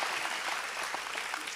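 Audience applause at an Islamic sermon event in Central Java, a steady dense clapping from a large crowd filling the whole moment with no voices.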